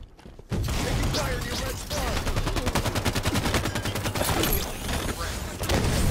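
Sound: rocket launcher firing in video game Halo 5

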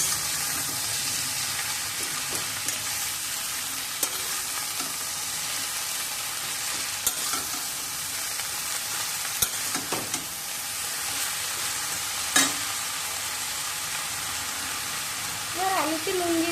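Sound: ridge gourd and pumpkin shoots sautéing in pan

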